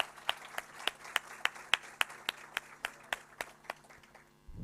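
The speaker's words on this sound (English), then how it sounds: "let's give him a round of applause." A small conference audience claps for an online presenter, a sparse, slow run of individual claps ringing out in a room, fairly faint and gradually thinning before stopping near the end.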